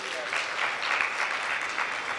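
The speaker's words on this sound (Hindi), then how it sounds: "तालियां बजाओ पंडित जी के लिए।" A seated audience at a Hindi religious discourse breaks into steady, dense clapping that holds evenly throughout, close and moderately loud with no talk over it.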